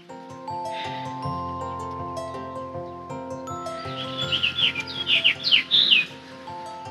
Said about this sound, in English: Did you hear that pretty bird song?